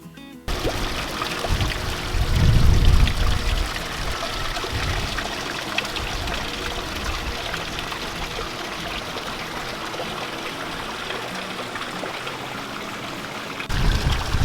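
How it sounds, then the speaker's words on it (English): Water steadily trickles and pours into a koi pond being refilled, a constant close stream with a brief louder splashy surge early on, with no voices. "So while the pond is filling,"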